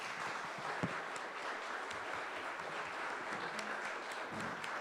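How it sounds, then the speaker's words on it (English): Audience in the room at Congress Hall applauding the Cape May County freeholder debate candidates, a steady wash of clapping that runs evenly throughout at moderate distance. "let's give them a round of applause"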